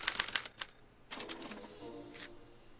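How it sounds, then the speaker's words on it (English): A special typewriter in the Back to the Future video game types out a punch card with quick clusters of sharp mechanical clacks in short bursts and pauses, close but fairly soft. "they're relayed to this special typewriter, which prints out a punch card that represents the subject's mind map"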